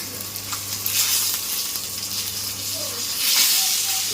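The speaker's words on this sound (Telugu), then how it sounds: "ఇప్పుడైతే మళ్ళా ఫిష్ ఫ్రై చేస్తుంది అనమాట." Fish frying in a pan, a close steady sizzle and hiss of hot oil with occasional stirring scrapes, while a person talks faintly in the background.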